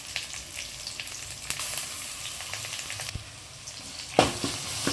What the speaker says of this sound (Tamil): வெங்காயம் இந்த அளவுக்கு வதங்கினதுக்கப்புறம் நம்ம இது கூடவே இஞ்சி பூண்டு பேஸ்ட் சேர்த்துக்கலாம்.